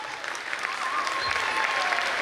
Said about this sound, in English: Parents to please clap for our students.